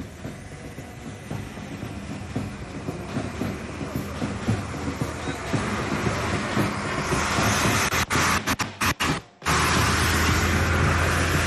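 Railway cars rolling past during an independence day parade, a broad steady rumble and clatter that builds louder toward the end, broken by a few brief dropouts, with no voices.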